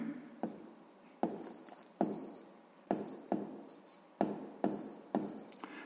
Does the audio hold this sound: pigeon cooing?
no